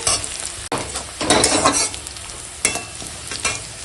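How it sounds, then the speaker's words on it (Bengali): Onions sizzle and crackle steadily in hot oil, close by, with a few louder bursts as they are stirred around the pan. "ফোড়নটার সঙ্গে ভালো করে পেঁয়াজটা একটু ভাজা হয়ে গেছে"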